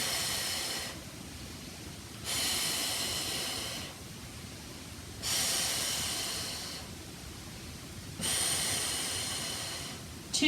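Slow, deep breathing during a barre stretching workout, with long airy inhales and exhales alternating at a calm, regular pace, heard up close and alone.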